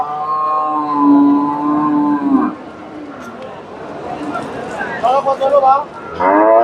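A crossbred dairy cow moos in long, loud, harmonic calls at a busy cattle market in Bogura, with a second lowing call near the end over background crowd noise.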